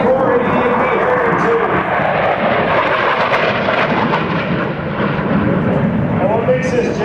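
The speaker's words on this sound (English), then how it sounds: "your United States Marine Corps AV-8B Harrier" A United States Marine Corps AV-8B Harrier jet roars past at an air show, a loud, sustained engine rumble and whine filling the air while an announcer talks over it.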